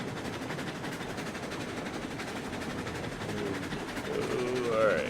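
A locomotive running in the train game RailRoads Online, a low continuous rumble with faint clattering carried from some distance, swelling slightly toward the end with a brief higher squeal.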